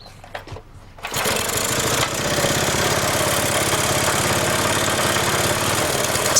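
A makeshift engine-driven air pump starts up after a brief quiet moment and settles into a steady, loud mechanical chugging drone while inflating a motorcycle tyre, close and without speech.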